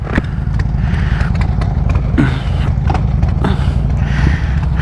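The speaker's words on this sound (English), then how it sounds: "1977 AMF Harley-Davidson Ironhead Roadster, or Ironhead Sportster" A 1977 AMF Harley-Davidson Ironhead Sportster engine idles loud and close with a lumpy, uneven rhythmic thump, punctuated by a few mechanical clicks and clatters.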